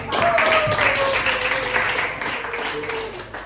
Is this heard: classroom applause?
yes